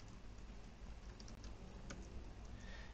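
Fingers type on a computer keyboard in a quiet room, producing soft, rapid, steady clicks with no voices.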